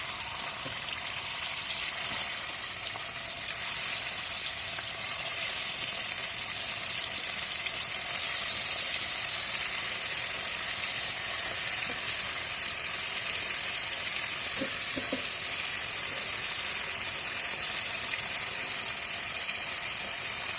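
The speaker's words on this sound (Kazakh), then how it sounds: "Енді ысыған майымызға құсымызды саламыз. Майлы жақтарын төмен салыңыздар, шыжғырлау үшін." Loud, continuous sizzling of chicken laid fatty side down in hot oil in a cauldron, a steady crackling hiss with faint stirring scrapes, no voices.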